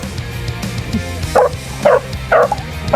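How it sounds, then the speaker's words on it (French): A sad dog gives a few short whimpers and whines at a steady rhythm, close by, over a constant background rumble. "Mon pauvre chien. Mon pauvre Bibi. Il est triste."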